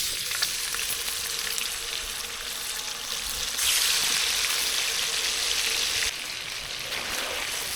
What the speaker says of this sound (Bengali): মুরগির গোলগুলো সব ভাজা হয়ে গেছে